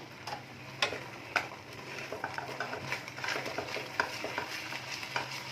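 A spoon works through a paan ladoo mixture of powdered food colour, making soft, irregular scraping and ticking strokes against the bowl, fairly faint and close, with no voices.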